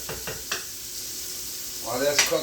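Food sautéing in a hot pan gives a steady sizzle, with a few scraping stirs early on and a louder, brighter burst of frying near the end.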